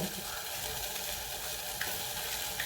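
A masala with ginger paste and garlic roasts in a pan for a water chestnut curry, giving a continuous close hiss of sizzling with a couple of faint stirring taps and no talk.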